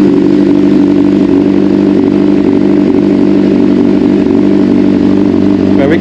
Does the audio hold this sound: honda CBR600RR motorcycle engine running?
yes